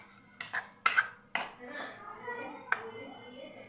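Flattened rice, curd and a third ingredient are mixed in a bowl for a chira medu vada batter, with a few sharp clinks and knocks of spoon against bowl and soft stirring between them, quiet and close.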